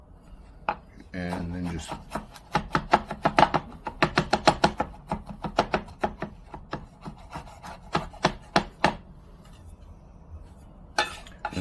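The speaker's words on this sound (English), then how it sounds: "press down and drag the knife across it on the cutting board" Knife work on a cutting board as peeled garlic cloves are smashed and minced, a quick run of sharp, irregular taps and scraping strokes, close and clear, with a brief spoken remark near the start.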